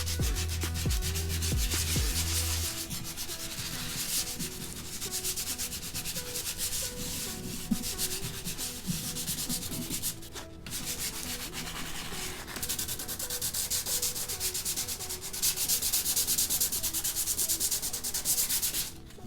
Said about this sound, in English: I'm just gonna start dry sanding it until I feel it smooth